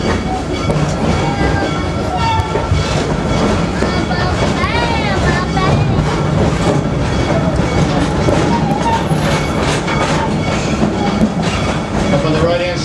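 A safari park train at Busch Gardens, Tampa Bay, Florida rumbles steadily along the tracks with rhythmic clatter and occasional wheel squeals, while a person talks over the loud, continuous noise.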